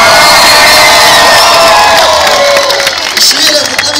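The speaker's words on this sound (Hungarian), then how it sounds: "tapsot!" A loud concert crowd at an Újpest show cheers and shouts with whoops rising over a continuous roar, mostly voices rather than distinct clapping, sustained at high level across the whole stretch.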